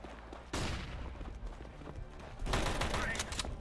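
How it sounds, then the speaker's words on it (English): In the video game CS:GO, a flashbang grenade goes off with sharp, loud bursts among the in-game gunfire and action noise. "Throwing a flashbang."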